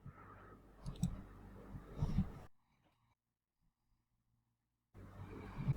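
Computer mouse clicking, a few sharp close clicks over low room noise, then a stretch of near silence before the noise returns.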